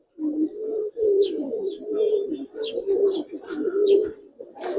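Silver Giribaz pigeons coo close up in a repeated, throaty rolling rhythm, several soft calls following one another with a few faint chirps in between.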